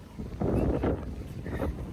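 Steady wind buffeting a microphone outdoors, a low rumbling roar that swells and eases over a couple of seconds, with no voices.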